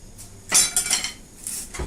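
Cooking utensils, among them a bowl, frying pans and a stew pan, clink briefly against one another in a few quick, bright metallic knocks, nearby and fairly faint, with no voices.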